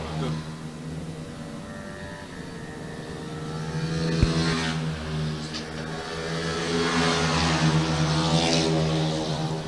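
Pit Bike Stock 140 motorbikes racing down the back straight at Lydd, their engines giving a sustained, rising buzzing drone, loud and fairly near, that grows toward the end, with a commentator's voice running over it.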